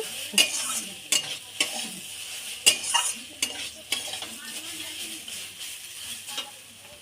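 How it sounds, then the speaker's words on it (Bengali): Vegetable chop mixture with peanuts and chilli frying in a pan, a steady close sizzle broken by repeated scraping and stirring strokes of a utensil against the metal, with no talking. "এটা একটু ভাজা করে নেব।"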